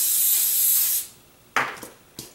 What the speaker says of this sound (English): lay these peppers out over my grill basket, which I'm also going to spray